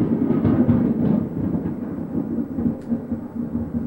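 Thunder from a storm in the Kingdom Hearts video game rolls through the scene as a loud, sustained, low rumble, heard alone without speech.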